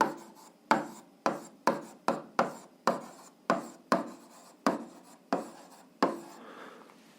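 A pen scratches math onto paper in a string of about a dozen quick strokes and taps, close and crisp, with short pauses between marks and no voice.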